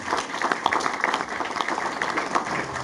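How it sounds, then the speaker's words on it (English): Audience applause at a 50th anniversary celebration honouring a distinguished Toastmaster, a dense steady clatter of many hands clapping throughout, fairly close and even in level. "Please join me in applauding Judith Talanoa, distinguished Toastmaster."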